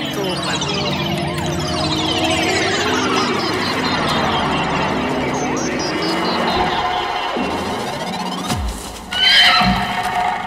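A voice in a Hindi-dubbed film imitates a horse, letting out a long, loud, quavering neigh that dips and rises before ending in a rough snort.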